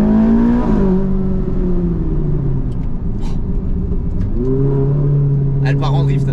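Ferrari 458 Italia drifting under acceleration: a loud close engine roar whose pitch rises and falls, with tire and mechanical noise between, strong and continuous throughout.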